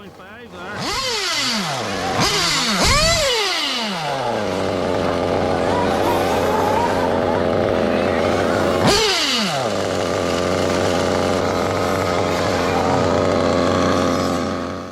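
A nearly ten-year-old Reds Racing R7 Evoke model nitro engine buzzes loudly at high revs, blipping up and down a few times before settling into a steady, rattling drone.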